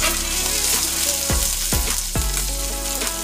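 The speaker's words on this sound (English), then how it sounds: "Let's clean our grill. Scrape all that off." Metal scraper dragged across a sizzling griddle after cooking Korean short ribs, with a steady frying hiss throughout and three sharp scraping strokes near the middle, close and fairly loud.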